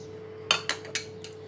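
Three quick metallic clinks of a spoon against a steel bowl, then a fainter fourth, as green chutney is added to dahi vada, close and crisp over a low steady hum.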